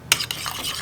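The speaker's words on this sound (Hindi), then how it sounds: "न्यू के साथ दही को मिक्स कर लेना है" Thick curd being mixed into a dip with a spoon, a quick close scrape followed by soft wet stirring swishes over under a second, no voices.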